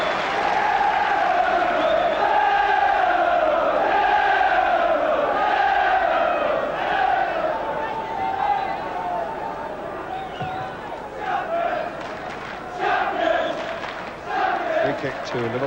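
Norwich and Liverpool fans applauding at a football match between Norwich City and Liverpool, a broad distant stadium roar of clapping and crowd noise beneath continuous commentary, swelling early then settling to a lower hum.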